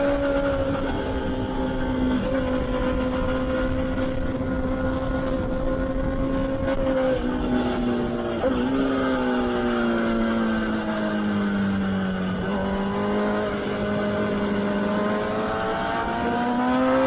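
Motorcycle at a track day at Palmer Motorsports Park, engine droning steadily as the rider rolls off the throttle through a corner, pitch sagging and rising again while leaning into a tight decreasing-radius section, loud and continuous with heavy wind rush.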